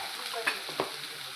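Garlic and cumin fry in a pan with a soft, close sizzle. A couple of brief stirring scrapes cut through the steady crackle.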